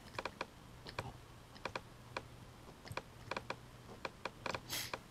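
Separate clicks of keys being pressed on a computer keyboard during photo retouching, irregular and fairly close, with brief pauses between taps and a low steady hum underneath.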